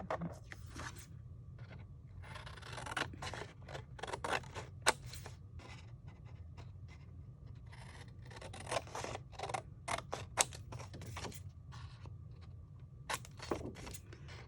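Scissors snipping paper along cut lines for pop-up boxes, giving a series of short, soft cuts and rustles close by over a faint low hum, with no talking.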